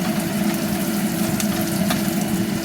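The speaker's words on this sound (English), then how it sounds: "Saute them on fire that's about 7 to 8, not maximum" Aromatics sautéing in a pan over medium-high heat, a steady, dense sizzle that holds at an even level throughout with no pauses.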